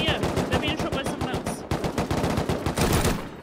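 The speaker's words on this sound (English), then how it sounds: "Oh, they're being shot by someone else!" Rapid automatic gunfire in the survival video game Rust, a dense, loud stream of shots rattling continuously for a few seconds.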